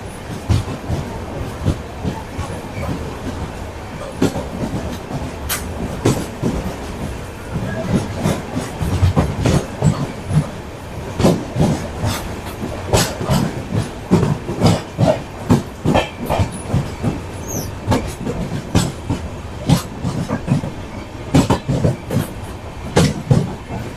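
The 17222 LTT train runs from Mumbai toward Vijayawada with a loud, continuous rumble and a steady rhythm of clattering wheel clicks over rail joints.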